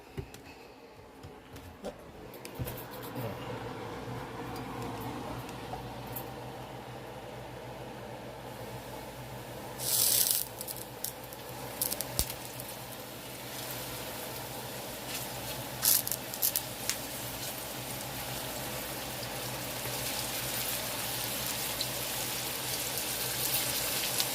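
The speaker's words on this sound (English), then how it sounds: "that grease is popping over there" Pork chops fry in hot grease, giving a steady sizzling hiss with scattered louder pops and spits over a long stretch, with no voices.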